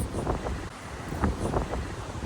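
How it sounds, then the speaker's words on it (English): Strong wind buffets the microphone outdoors near trees in continuous low rumbling gusts, a loud steady roar with no voices. "Wow, it's so windy out here."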